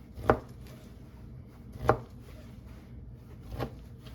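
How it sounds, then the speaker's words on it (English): A knife chops through a pork loin into center chops, three distinct thuds spaced evenly about every second and a half against a quiet kitchen background. "you can cut you some center chops, maybe about 3/4 of an inch"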